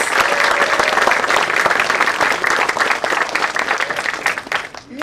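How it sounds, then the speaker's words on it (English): Audience applause at the Share Bazaar 2024 event, a dense, steady wash of many hands clapping close by that carries for several seconds before thinning at the end. "A big hand of applause."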